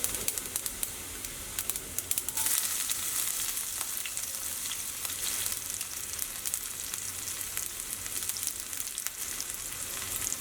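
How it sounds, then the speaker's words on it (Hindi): Chillies fry in hot oil with mustard seeds, cumin and garlic, with a steady, close sizzle and crackle, occasional sharper spits, no voices. "लहसुन थोड़ा सा लाल हो जाए फिर हम डालेंगे मिर्ची।"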